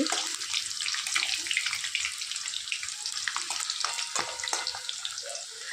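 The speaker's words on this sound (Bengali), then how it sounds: "তাই আলুটাকে ভেজে নিচ্ছি" Potato pieces frying in oil in a pan for chicken curry, a steady, close crackling sizzle with fine popping throughout.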